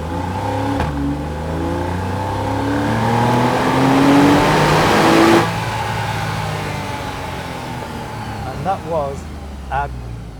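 A Porsche Carrera with PDK gearbox in Sport mode accelerates hard, its engine note climbing steadily and loudly with a gear change, then settling into a steady drone with brief blips.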